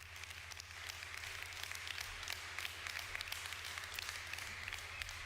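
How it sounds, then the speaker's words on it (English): Faint, distant applause from a crowd at the launch event for the Polestar 3 electric SUV, a steady patter of clapping over a low, rhythmic background hum. "Let's give them a round of applause."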